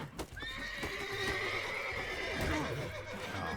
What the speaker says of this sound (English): And the horses are panicking all the hell